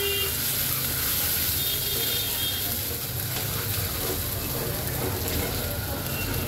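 Spices cooking in hot oil in a pan for a thin ginger-paste chital fish curry, a steady broadband sizzle that holds loud and even throughout with no breaks.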